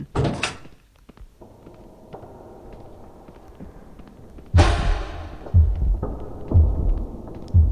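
Heartbeat from the horror video game Evil Nun: after a quiet stretch with a few clacks, deep, heavy thumps start and repeat roughly once a second, loud and close, with no talking.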